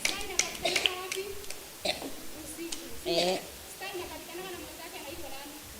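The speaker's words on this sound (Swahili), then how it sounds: "Mpigieni makofi." Children at a Bible study clap in scattered, uneven bursts, with some sharper single claps, while children's voices and other speech mix in throughout.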